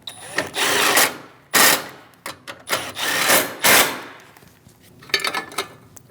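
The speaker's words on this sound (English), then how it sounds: "Install the two 10mm bolts through the top. Snug them down." Two 10mm bolts being snugged down on the AC condenser of a 2016-2025 Chevrolet Malibu, heard as close bursts of ratcheting and tool clatter in short runs with pauses between them.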